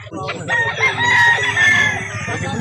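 Chickens and roosters at a poultry market in Calauan, Laguna: a rooster crows loudly and close by while hens cluck around it.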